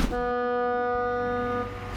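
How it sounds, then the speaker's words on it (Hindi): A single sustained artificial car horn from highway roadside speakers blares steadily for about two seconds, loud and flat-toned. "हाईवे पर लगे स्पीकर्स आर्टिफिशियल हॉर्न की आवाज निकालना शुरू कर देते हैं।"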